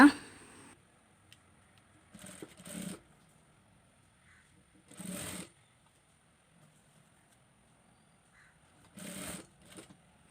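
A sewing machine stitches a frock-style nighty in three short whirring bursts, each about a second long, separated by near silence. The sound is quiet and close.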